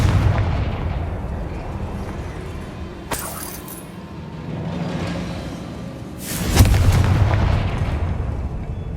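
Confringo spell blasts in the game Hogwarts Legacy, with two sharp explosive bursts over a continuous rumbling background, the second blast louder and followed by crackling debris.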